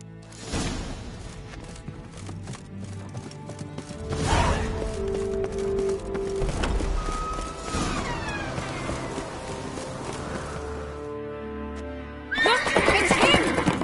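Horse whinnying and neighing with clopping hooves in The Witcher 3 video game, several loud neighs over galloping, with game music and voices speaking around them.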